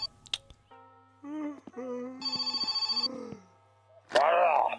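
A telephone rings in the video game My Summer Car: a repeated electronic bell trill in one steady burst mid-clip, with game voices and tones before it and a loud voice after.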